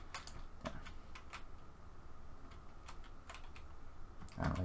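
Computer keyboard typing during a Minecraft session, scattered clicky keystrokes in irregular bursts with pauses, close and moderately loud, ending in a quick cluster of presses.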